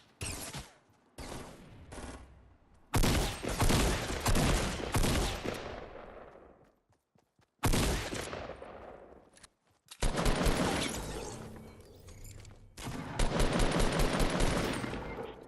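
Gunfire in a video game: loud bursts of automatic fire and single shots, close and sharp, with decaying echoes, come in clusters separated by brief silences.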